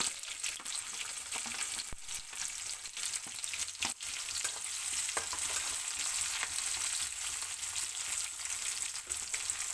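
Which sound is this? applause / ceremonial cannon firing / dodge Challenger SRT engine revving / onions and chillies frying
onions and chillies frying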